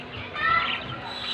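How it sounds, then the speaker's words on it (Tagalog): Pet bird chicks chirp in a dense, continuous cluster of thin high peeps, fairly close and moderately loud, with soft background murmur. "Ito yung mga inakay ng aking ibon."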